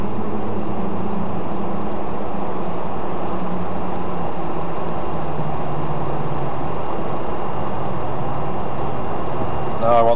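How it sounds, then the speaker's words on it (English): Wing flaps extend to 18 degrees on a BAe 146 airliner, a steady whirring hum heard from the flight deck beneath loud, constant cockpit and airflow noise. "The noise you hear is the flap travelling."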